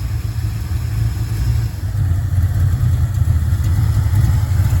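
A Ford Mustang engine with a swapped-in GT40 intake runs at a steady idle, a close, continuous low rumble with no talk.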